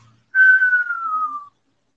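A single clear whistled note from a person, held for just over a second and sliding gently downward in pitch, close and alone in quiet.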